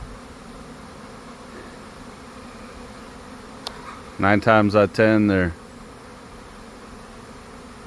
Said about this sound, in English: It's a good sized swarm. They're still coming in